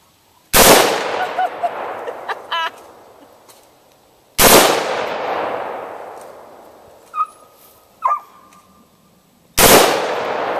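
Gunshots at a Halloween shootout outdoors: three loud, close single blasts spaced several seconds apart, each with a long echoing decay, and a couple of faint metallic clinks in between.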